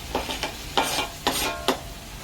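Chopped tomatoes sautéing in a pan for a chicken gravy, with a close sizzle broken by several sharp spatula scrapes and stirring strokes. No one speaks.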